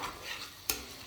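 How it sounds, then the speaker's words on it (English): Onions frying in a pan, a quiet soft sizzle with a brief sharp scrape of stirring partway through. "there's a bit of a sizzle."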